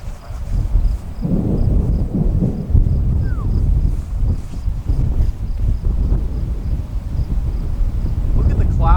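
Thunderstorm rumble rolls continuously, a deep low roar with gusty wind noise on the microphone, loud and sustained throughout, with no clear voices over it.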